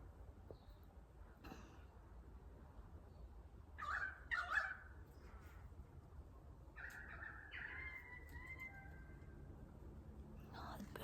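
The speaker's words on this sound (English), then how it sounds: "Birds are beautiful today." Birds call softly outdoors on an autumn day, a few scattered faint cries and short honking notes over quiet background hiss.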